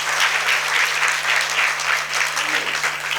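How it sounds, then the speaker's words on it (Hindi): An audience at a religious discourse breaks into steady, sustained applause, loud and dense, with a faint hum underneath. "अपनी तारीफ सुनी, जल्दी ताली बजा दिया"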